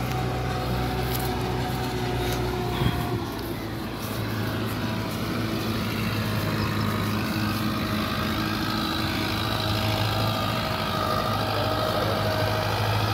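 A Belarus 511 tractor engine idles close by in a steady, continuous mid-to-low drone, with one brief bump partway through and no voices over it.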